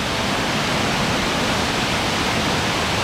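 A waterfall at Cachoeira do Jajá near Morretes pours with a dense, steady rushing roar, unbroken and close, with no voices.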